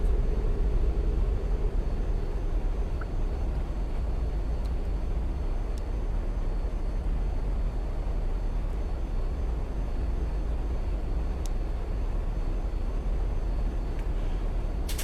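An MD80 airliner rotates on takeoff as its gear comes up, filling the cabin with a steady, loud engine roar and rushing air noise, with a few faint clicks.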